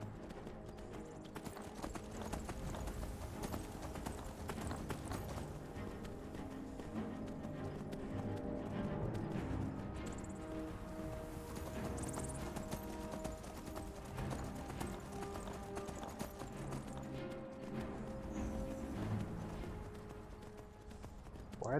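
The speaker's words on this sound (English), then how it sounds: "That horse is just dumb. It'll run into anything." Steady, rhythmic clip-clop of horse hooves trotting continuously in the video game Skyrim, over a dense, busy background, fairly quiet overall.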